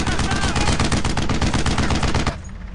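Rapid machine gun fire in the WWII shooter Brothers in Arms: Road to Hill 30, a loud, dense stream of close bursts rattling continuously for over two seconds before cutting off into a lingering low rumble.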